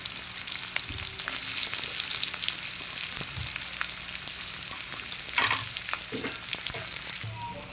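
Lengthwise-sliced onion fries in a pan with a continuous close hiss, broken by occasional stirring scrapes and soft knocks, with no voices.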